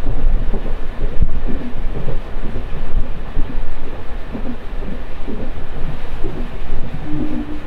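A MEMU passenger train runs between Bhimavaram and Narasapur with a loud, steady rumble and rattling carriages, and faint rail clicks and squeals stand out now and then.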